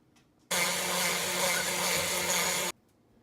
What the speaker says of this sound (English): Next is adding 3 eggs and beating well.